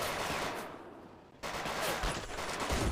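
MG42 machine gun bursts in the Men of War game, fairly faint rapid rattling fire that drops out for a moment and then resumes.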